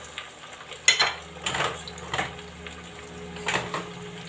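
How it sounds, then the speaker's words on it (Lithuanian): Tortilla frying in a covered pan over a low gas flame, a soft steady sizzle with a few faint clinks and scrapes, quiet and close with no talking. "Uždengiam ir prisukam dujas. Tegul mažų dujų kepa."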